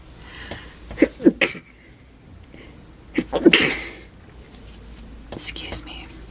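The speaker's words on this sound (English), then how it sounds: "Excuse me, I sneezed." Whispered speech with two sharp, bursty sneezes or sneeze-like outbursts, fairly close, followed by more soft whispering.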